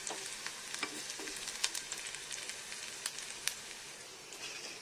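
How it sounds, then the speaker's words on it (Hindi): Onions sizzle and fry in a pan for masala Maggi, a steady soft crackle with scattered sharper pops and the occasional stir, fairly quiet and with no talking. "प्याज हमारे हल्के से पक गए हैं, बस एक दो सेकंड और पकाएंगे"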